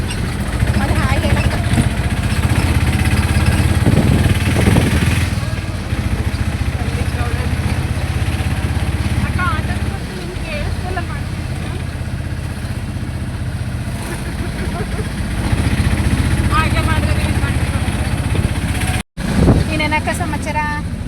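A motorcycle engine running steadily in a loud, low drone that continues throughout, with occasional shifts in pitch, under people talking.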